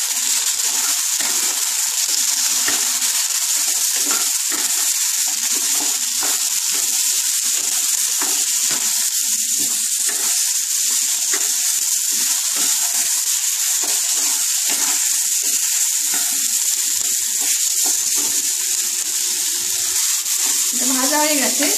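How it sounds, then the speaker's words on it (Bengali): Potatoes and pointed gourd fry with a little turmeric in a pan, giving a steady, bright sizzle throughout with occasional stirring scrapes and soft background voice. "একটু সামান্য লাল লাল করে ভেজে নেব, সামান্য হলুদ দিয়ে দিচ্ছি,"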